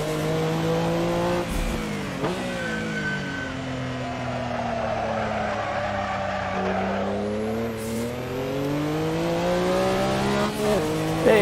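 Porsche 962 C Short Tail in Assetto Corsa at Barcelona GP, engine held smoothly on throttle with a steady droning note that climbs and dips through shifts, some tyre scrub and skidding, loud and unbroken with no talk.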